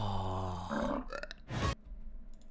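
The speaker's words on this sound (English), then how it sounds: "Why does it burp like a human?" A cartoon dog in the Clifford movie trailer lets out a long, deep, human-sounding burp, loud and close, followed by a shorter guttural belch, then a quiet tail.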